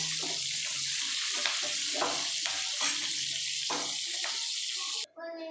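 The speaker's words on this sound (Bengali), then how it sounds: "জাস্ট একটু তেলে নাড়াচাড়া করে আমি তুলে নেব দেখুন আমি এগুলোকে পেঁয়াজগুলোকে আর এটা তুলে নেব" Onions and capsicum stir-frying in a little oil, a close, continuous hissing sizzle with repeated soft scrapes of stirring, ending abruptly as the pan goes quiet.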